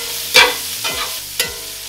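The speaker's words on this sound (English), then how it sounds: "I'm gonna go ahead and drop these jalapenos in." Jalapenos dropped into a pan of crisp frying bacon, giving a steady sizzle broken by three short bursts of spattering as they hit the hot fat, close up with no talking.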